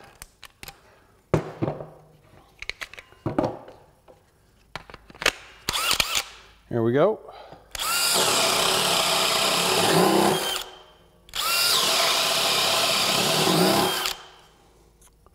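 A DeWalt Power Detect cordless drill bores into wood with a bit clogging with wood chips: a few clicks and a rising whine, then two long, loud, steady drilling runs separated by a short pause. Someone speaks briefly at the start.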